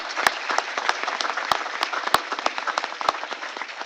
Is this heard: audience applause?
yes